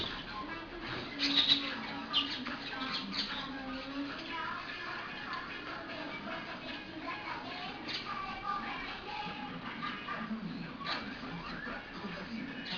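A flock of parakeets and doves gathers at a window ledge, chirping, cooing and flapping in a busy, continuous jumble with a burst of louder wing flaps early on.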